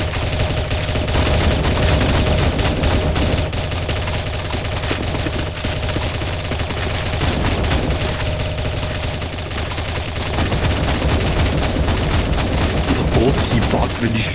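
Sustained gunfire in CSGO zombie escape on the ze_cyberpunk_x_a07 map as players shoot the boss, a loud, continuous rattle of rapid shots running unbroken throughout with layered weapons firing at once.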